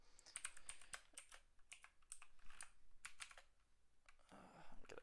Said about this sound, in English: My keyboard's off to the side all the time while I'm doing these tutorials, so it's actually really hard to type.